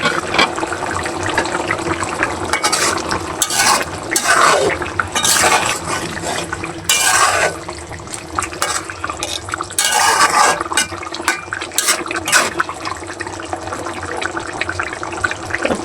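A spicy shing (stinging catfish) curry boils vigorously in a pot, its loud, continuous bubbling and gurgling surging and easing in irregular bursts close by.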